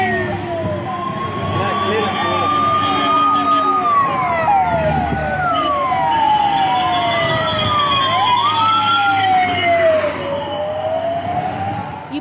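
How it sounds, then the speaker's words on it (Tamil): Several emergency sirens wail on the road, ambulances escorting one another through traffic, their rising and falling tones overlapping loudly and continuously against a rumble of vehicles. "குழந்தை இருந்த ஆம்புலன்ஸுக்கு முன்பாக மற்றொரு ஆம்புலன்ஸ் சென்று அதற்கு வழி ஏற்படுத்தியது"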